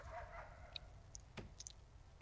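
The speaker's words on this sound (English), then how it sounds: "What are you barking at?" A dog barks faintly and briefly in a prison-building video game, with a few soft yips and clicks over a low rumbling background.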